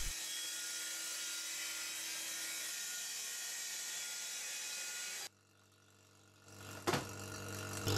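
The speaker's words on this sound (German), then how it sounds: "Nun wird zunächst eine absolut gerade Kante gesägt." Festool plunge saw running along a guide rail with dust extraction, cutting a straight edge in a workbench panel: a loud steady high whine that stops abruptly, leaving a low hum and a brief knock.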